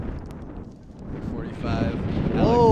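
A gust of wind buffets the microphone at an outdoor high school varsity baseball game, building into a rising, blustery rush across the clip while people talk over it.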